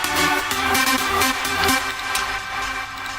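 A Spire synth lead in an FL Studio uplifting trance arrangement plays a bright, rhythmic pattern of repeated short notes over sustained chords, steady and prominent, with no voices.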